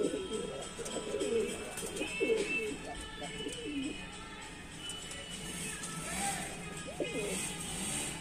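Home-loft pigeons coo in soft, repeated low phrases throughout, fairly close, with faint background hum and occasional distant chirps.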